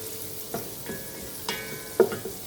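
Chopped onion frying in a pan gives a faint low sizzle, with a few scattered scrapes and knocks of a utensil stirring, close and quiet, without talk.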